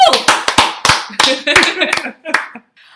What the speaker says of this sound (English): I think he deserves an applause even for that